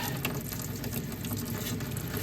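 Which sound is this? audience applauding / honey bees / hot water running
hot water running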